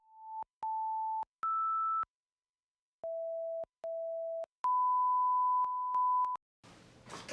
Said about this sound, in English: why is somebody calling me on my phone when it's set to do not disturb?